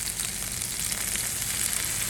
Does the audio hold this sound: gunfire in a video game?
no